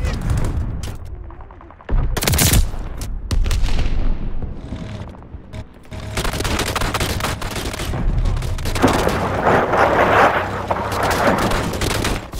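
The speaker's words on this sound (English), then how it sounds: "Throwing stun grenade." Battlefield chaos in the video game Call of Duty Vanguard as a stun grenade is thrown, a loud near burst amid sustained gunfire, explosions and crackling combat noise that continues throughout.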